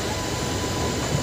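A Rath Yatra special train to Puri pulling out of Santragachi Junction: a loud, continuous low rumble with broad mechanical noise, holding steady throughout without distinct clanks or horn blasts.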